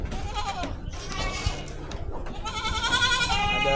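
Goats on a farm pen holding around twenty mixed animals, including Saanen types, bleat in wavering calls, one early and a longer chorus toward the end, close and fairly loud over rustling and faint voices.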